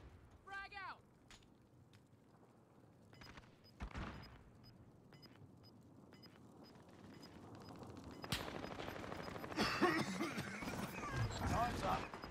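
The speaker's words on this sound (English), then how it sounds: "Some machine gun over here." Video game machine gun fire starts as scattered, fairly distant pops and builds into denser, louder rattling bursts toward the end.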